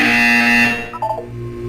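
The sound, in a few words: buzzer in the video game Portal 2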